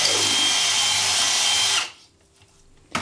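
A power drill with a mixing paddle whirs loudly and steadily through clay plaster for nearly two seconds, then cuts off, followed by quiet and a brief knock at the end.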